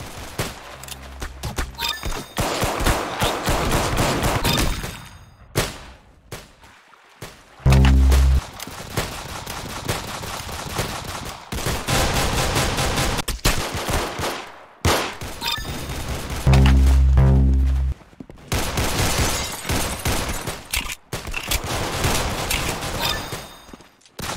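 Gunfire in the Roblox game Arsenal: rapid bursts of shots and clattering game effects, loud and near, repeating in several volleys with brief pauses between them.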